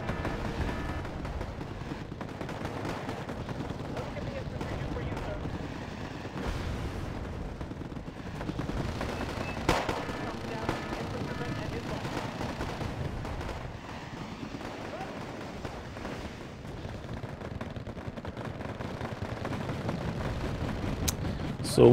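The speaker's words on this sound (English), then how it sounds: "my move was quickly followed by an airstrike on my position" Airstrike explosions and gunfire in the Wargame AirLand Battle video game rumble continuously at moderate volume. Dense booms and crackling shots overlap throughout, with someone talking over them.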